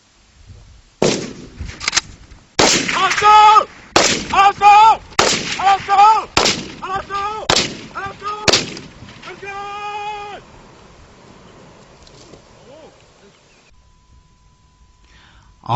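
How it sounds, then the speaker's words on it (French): A rapid series of loud gunshots, clustered bursts over several seconds during Cameroon special forces military training, mixed with shouting voices, then fading to quieter background noise. "Dès le premier coup de feu tiré par l'ennemi"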